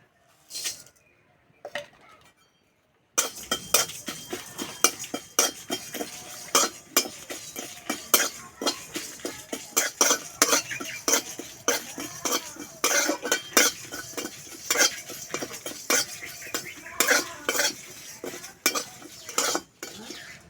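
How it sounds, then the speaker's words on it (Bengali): Whole cumin seeds, coriander seeds and broken dried red chillies dry-roasting in a pan for pakora chutney, with a steady run of scraping stirs and light rattling clinks of spoon on metal, close and continuous after a short quiet start. "পকোড়া চাটনির জন্য গোটা মশলা ভেজে নেব এখানে নিয়েছি গোটা জিরে গোটা ধনে শুকনো লঙ্কা"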